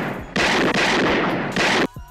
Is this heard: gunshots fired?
yes